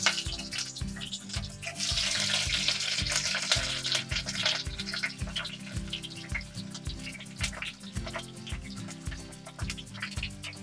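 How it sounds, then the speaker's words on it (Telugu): Capsicum fries lightly in a pan with a continuous close sizzle and hiss, accompanied by a regular pulsing beat of background music; no one speaks. "ఇందులో మనము క్యాప్సికమ్ కొంచెం లైట్గా ఫ్రై చేసుకోవాలి"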